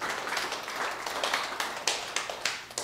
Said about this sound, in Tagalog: Palakpak po sa Panginoon yan.